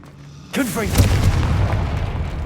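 Confringo explosive spell in Hogwarts Legacy, a sudden booming blast after a brief quiet lead-in, followed by sustained rumbling with a voice-like cry mixed into the burst.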